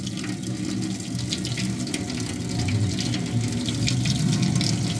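Water runs steadily from a tap into a sink, a continuous moderate splashing hiss with no voices over it.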